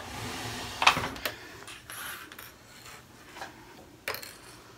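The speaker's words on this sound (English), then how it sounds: "now I'm going to stop stretching and just sew that end in place" A sewing machine stitches the end of an elastic strip onto the seam allowance of a sweater's crossover front, giving faint, sparse mechanical clicks and rubs with a low hum beneath.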